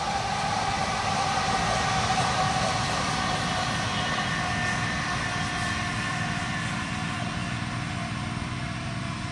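A Whoosh high-speed rail inspection train (CIT) passes on an elevated track of the Jakarta–Bandung line near Tegaluar station. It makes a loud, steady roar that holds at an even level for the full length without pausing.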